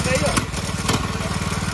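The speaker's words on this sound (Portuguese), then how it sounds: "isso aqui é um motor de 100 cilindrada com carburador de roçadeira" A small 100cc motorbike engine fitted with a brush-cutter carburetor runs close by in a fast, even putter, with someone talking over it.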